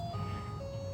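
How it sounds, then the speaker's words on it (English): A car door warning chime installed in a 1981 Scirocco S interior, fitted from a later car, sounds as a steady electronic tone that sustains and then steps to a higher pitch over a low idle hum. "The chime is from a later car."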